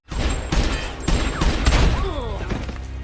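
Gunfire in a film scene where a man opens fire with a pistol: rapid loud shots with sharp cracks and booms, overlapping in a busy fusillade, with shouting voices mixed in.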